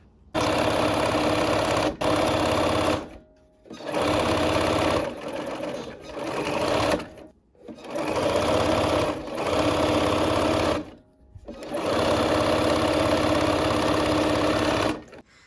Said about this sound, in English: I'm going to sew it right